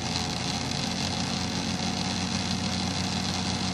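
Model SD70M locomotive motor spinning freely with wheels turning, a steady, close, buzzing mechanical whir with slight rattling that holds constant throughout.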